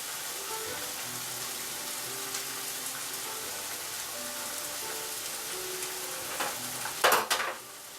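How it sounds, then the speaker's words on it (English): Paste stirred into a hot pan for pasta, a soft continuous sizzle with faint crackles and a few louder scraping clatters near the end, no talking. "stir the paste into the bottom so it'll melt up"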